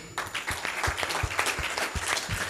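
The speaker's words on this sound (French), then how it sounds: "Est-ce que nous pouvons encore une fois acclamer le Seigneur?" A church congregation claps and cheers in praise during a sermon, a steady dense applause with crowd voices mixed in throughout.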